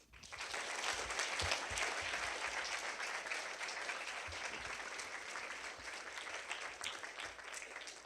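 Sustained audience applause in a lecture hall welcoming a physicist speaker, dense steady clapping that holds for several seconds before tapering slightly.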